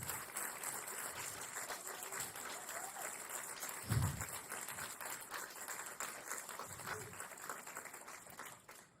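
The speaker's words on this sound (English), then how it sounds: "can we get another round of applause for Saul Williams?" A conference audience applauds a keynote poet, a faint, steady wash of clapping heard from a distance, with a slight swell partway through.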